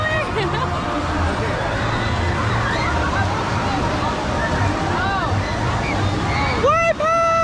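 Water sloshing and churning in a wave pool at a Disney World water park during an evening event, a steady wash under a busy crowd babble with voices and a short whistle-like squeal near the end.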